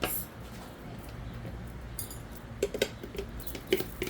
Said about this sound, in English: we're going to wash this spoon so we can get our mayonnaise